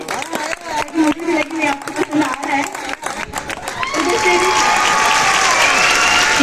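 Students at a college physical education fresher party clap along while a woman sings over music, then the clapping swells into a loud, continuous burst of applause with crowd noise.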